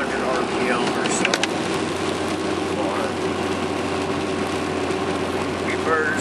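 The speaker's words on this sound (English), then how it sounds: "I don't know if you guys can hear me that well due to the drone at like 1600 RPM or so." Steady engine drone at roughly 1600 RPM inside a vehicle in bad weather, a constant low hum filling the whole stretch, with someone talking over it.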